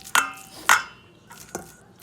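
Beef salad ingredients tossed and mixed in a bowl, with two sharp clatters followed by softer knocks and scrapes, heard close without talk.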